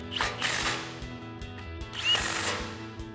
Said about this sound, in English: We're gonna grab our impact and 19mm swivel socket,